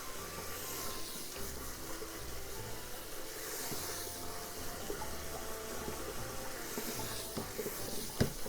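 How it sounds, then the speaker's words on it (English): Tap water runs steadily over cooked somen noodles in a kitchen sink as they are rinsed, a constant hissing flow with a faint clink near the end. "rinse the noodles under running water like you're polishing it"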